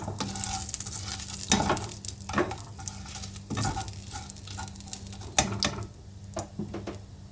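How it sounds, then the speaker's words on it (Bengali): Cumin seeds and bay leaf crackle and sizzle in a small amount of hot oil in a kadai, a steady busy frying hiss with intermittent sharp pops and stirring scrapes throughout. "এর মধ্যে সাদা জিরে আর তেজপাতা ফোড়নে দিয়ে দিলাম।"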